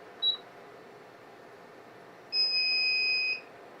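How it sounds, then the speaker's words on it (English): A Junbpaw 2080W ATS inverter beeps at low battery voltage while under heavy load: one short electronic chirp, then a steady high-pitched tone lasting about a second over a low background hum. "The inverter is now beeping because of probably our battery voltage is getting a little low."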